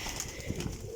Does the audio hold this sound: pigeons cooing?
yes